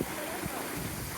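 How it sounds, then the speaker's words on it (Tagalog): Water slapping and splashing against a boat or shore on open water, a continuous rushing, hissing wash that is close and even, with wind noise and a voice briefly mixed in. "ang sarap ng hampas ng tubig oh"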